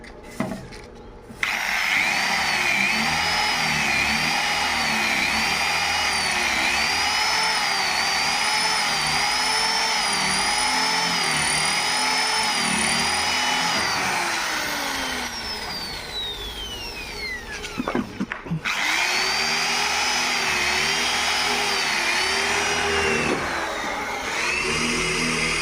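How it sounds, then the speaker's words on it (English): On an Indonesian bus conversion, a power drill whines steadily at close range while drilling out tack welds on the bus front, its pitch wavering under load, pausing briefly and dropping away before starting up again. "So he can fill the tack welds and then he drills them out."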